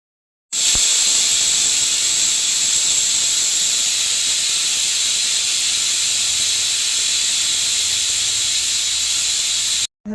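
A pressure cooker cooking dal for sambar vents steam in one continuous loud hiss that starts abruptly and holds steady for nearly ten seconds before cutting off.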